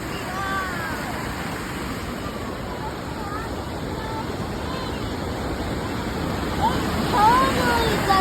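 Loud, steady roar of Smokey Hollow Waterfall in Waterdown, Ontario, a continuous broadband rush of falling water that fills the scene, with faint bird calls and higher sounds flickering above it.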